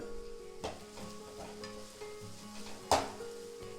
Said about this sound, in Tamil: மஞ்சள் தூளையும் சேர்த்துட்டு நல்லா வந்து வதக்கிக்கலாம்